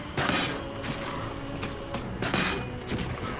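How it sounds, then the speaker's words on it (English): In the video game Baldur's Gate 3, during a combat battle, an explosion bursts with rumbling booms and crackling hits that rise and fade in several surges over continuous battle noise. "Oh, good explosion."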